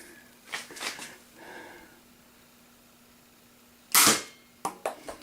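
An Air Warriors Panther 2 toy blaster fires foam darts in sharp, close pops: one strong burst near the middle and a few quicker snaps near the end, with faint handling noises before.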